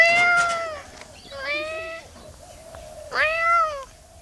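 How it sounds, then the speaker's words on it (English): A cat meows three times, each call rising and falling in pitch, fairly close and loud, with quiet gaps between the calls and no talking over them. "There's a cat."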